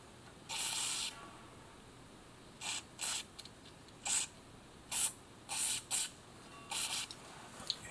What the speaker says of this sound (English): Let's get a little bit of penetrating oil there.